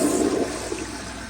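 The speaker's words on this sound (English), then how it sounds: "And let's give it a flush and see how it does." An American Standard Yorkville toilet from 2012 flushing during a performance test, a loud rushing gush of water that settles into a softer draining swirl.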